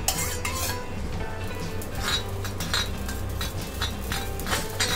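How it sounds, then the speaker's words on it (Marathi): Poppy seeds dry-roasting in a pan over a low gas flame, with a soft steady sizzle and frequent scraping and clinking of a metal spoon stirring against the pan. "आता पहिली मी खसखस भाजून घेतलंय बारीक गॅस करून"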